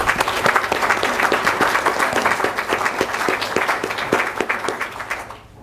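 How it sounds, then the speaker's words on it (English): A room full of people bursts into steady applause for two veterans, dense clapping that runs strong and even for several seconds before fading out at the end. "we all owe both of you a round of applause for your service to our country as veterans"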